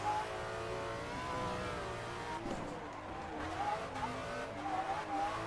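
A car drifting without the hand brake, engine revving hard with tires spinning and squealing, loud and close throughout with continuous rising and falling engine tones.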